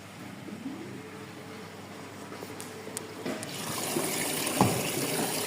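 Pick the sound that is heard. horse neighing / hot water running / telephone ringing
hot water running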